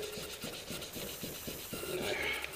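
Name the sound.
sanding a cam cover with 800 grit sandpaper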